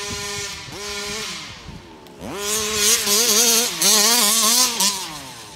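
A gas-powered Rovan FT360 RC car engine revs hard during a wheelie, a buzzy two-stroke whine that rises and falls in repeated bursts, loud and close, with no talk.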